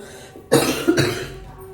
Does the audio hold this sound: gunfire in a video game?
no